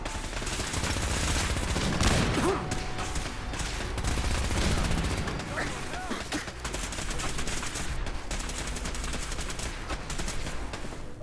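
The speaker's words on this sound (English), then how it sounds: "It's an Institute scientist shooting at us." Sustained automatic gunfire from an Institute scientist and other combatants in a Fallout 4 firefight, loud and dense bursts of shots rattling continuously for the whole stretch with heavy weapons chatter layered over it.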